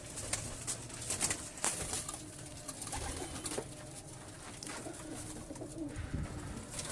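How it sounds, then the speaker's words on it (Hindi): Pigeons in cages, including fancy breeds, coo softly and repeatedly, several birds overlapping against a faint background, with an occasional flutter. "इसमें भी दबाज कबूतर, टैडी कबूतर और बहुत बहुत नया किस्म के कबूतर"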